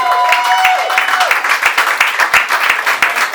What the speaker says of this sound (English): Now stop clapping